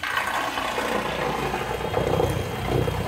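Steady churning, gurgling rush of water in a pool with a low mechanical hum, a Haswing Protruar G 3.0 trolling motor propeller thrashing and cavitating nearby without pause.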